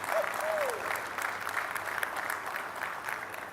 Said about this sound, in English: Can we have a round of applause for our engineering team?